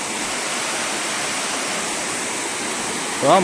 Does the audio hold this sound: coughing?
no